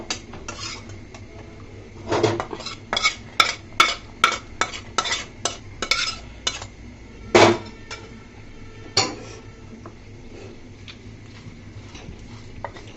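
Boiled jackfruit seeds are lifted out of a pot with a metal utensil, giving a run of close, sharp clinks and scrapes against the pot, clustered and then fading to a few isolated knocks, with no one speaking.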